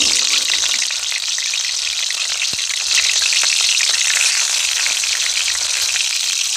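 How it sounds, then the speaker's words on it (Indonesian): Marinated tempeh fries in a pan, giving a loud, steady, hissing sizzle with fine crackles throughout and no voices. "Kita juga masih goreng tempe."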